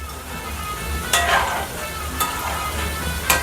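Crispy veg Manchurian balls made from a maida and cornflour coating deep fry in oil over a full-flame gas stove, giving a steady close bubbling sizzle with a few brief louder bursts and no talking.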